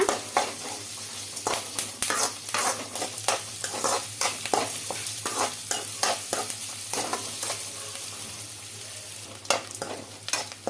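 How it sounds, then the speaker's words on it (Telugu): Chopped onions fry in oil for an onion chutney, a steady close sizzle broken by frequent scraping stirs of a spatula against the pan, with no talking. "ఈ ఆనియన్స్ బాగా గోల్ కలర్ వచ్చే వరకు ఫ్రై చేసుకోవాలి"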